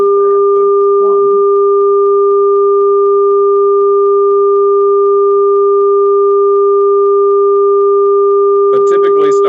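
A fake star sonification of two sustained sine-wave tones, low and higher pitch held loud and unchanging, with brief bursts of a voice talking over it near the start and end.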